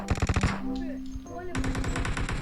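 Rapid automatic gunfire in a video game crackles in quick bursts, loud and close, with a pause in the middle where a voice speaks before the shooting resumes.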